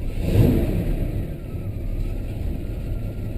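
A cold 1969 Chevelle SS 396 with a tall intake manifold and old gas in the tank warms up, its big-block engine giving a steady, loud, close rumble that swells briefly near the start.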